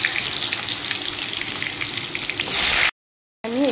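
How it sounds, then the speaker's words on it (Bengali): Potatoes frying in hot oil with whole cumin seeds in a kadai, a steady close sizzle that fills the clip and swells briefly before cutting out, then returns. "আমি একটু লাল লাল করে ভেজে নিব।"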